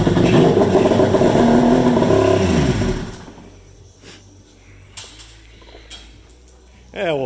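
Polaris Ultra 680 triple-cylinder snowmobile engine, freshly rebuilt with a new crankshaft, revs loud and close for about three seconds, then drops away to a low idle with a few faint clanks and a brief swell at the end.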